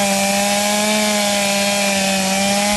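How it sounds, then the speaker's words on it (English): Chainsaws run steadily at a constant pitch throughout, a loud continuous engine drone while cutting up fallen trees during storm cleanup. "Chainsaws and heavy-duty equipment."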